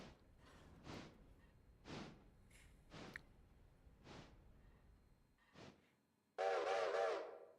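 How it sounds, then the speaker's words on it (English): A customized steam locomotive whistle in a train simulation game sounds one loud, sustained blast of a little over a second near the end, preceded by several soft whooshing thumps. "Horrible whistle."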